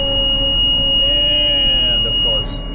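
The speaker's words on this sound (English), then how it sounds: "at the end of that last clip, you did see the alarm going off" A planter monitor alarm sounds for a plugged row unit on an International 900 planter pulled by a Case IH 7120 tractor, a steady high-pitched electronic tone over a low cab drone, with faint voices.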